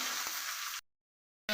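Onion and chili sizzle as they fry in a pan, a steady bright hiss close up that cuts out abruptly into silence and then returns for a moment.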